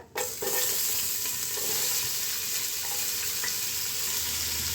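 Sliced big onions frying in a pan for donne chicken biryani: a steady, close hiss of sizzling oil that runs unbroken for the whole stretch, with a brief stir or scrape near the start.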